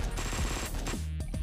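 Rapid bursts of gunfire in the top-down video game Hotline Miami, firing in quick repeated pops over a loud, dense game soundtrack that runs the whole way through.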